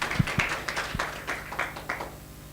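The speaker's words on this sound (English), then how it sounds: "please, can we invite him with a round of applause?" Scattered applause from a conference audience as a speaker walks to the podium, with loose irregular claps and a few sharp nearby ones, fairly faint overall.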